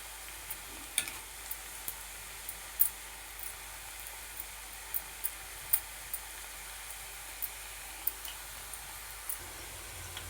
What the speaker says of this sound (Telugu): ఎలా ఫ్రై అయ్యాయో చూద్దామండి